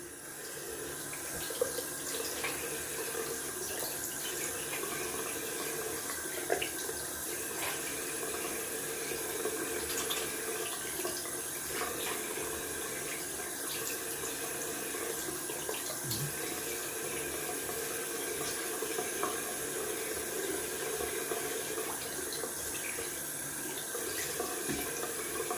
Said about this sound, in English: We're gonna rinse off with cold water.